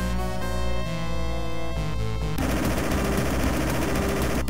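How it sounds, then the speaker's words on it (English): Rapid laser cannon fire in the 1994 Banpresto arcade game Mazinger Z, a dense loud burst of repeated shots that takes over from the game music and continues to the end. "It's got these big laser cannons."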